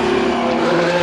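Ferrari F1-75 2022 race car in Assetto Corsa as its rear wheels lock up, a loud, continuous engine drone with a tire-scrub edge over a single brief second.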